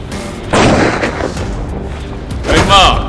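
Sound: gunshot

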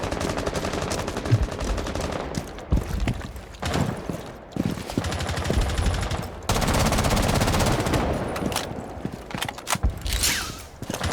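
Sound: gunfire shooting a camera in Rainbow Six Siege video game

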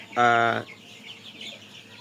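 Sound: CPF-3 tiger chickens clucking in shed

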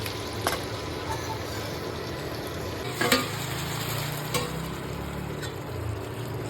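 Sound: marinated okra being stir-fried in a pan

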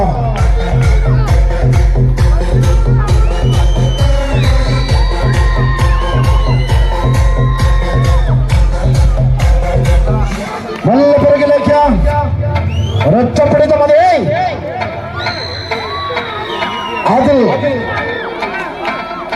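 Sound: crowd cheering at a tug-of-war match

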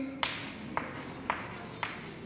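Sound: writing a number in expanded form

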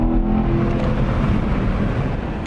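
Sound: fast sports car accelerating as driver sets off

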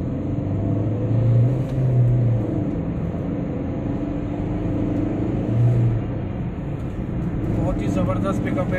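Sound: Maruti Swift VDI 2014 car accelerating on test drive

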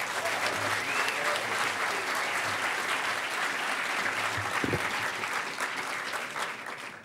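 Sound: audience applause at closing ceremony

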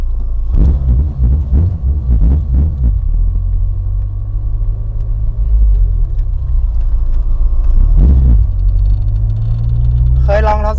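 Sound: loud K24-engined Honda Civic coupe engine running

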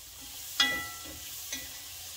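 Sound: sautéing squash, carrots, onion and green peppers in pot

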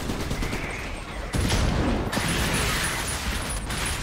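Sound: grenade rounds firing in the video game Trenched

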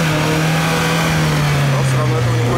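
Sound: UAZ Patriot engine revving, wheels spinning off-road

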